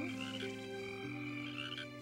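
Frogs croak at night, with sustained throaty calls overlapping in a steady chorus at moderate distance and no voices.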